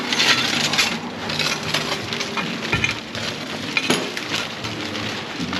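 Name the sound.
broken window glass dumped into a trash bag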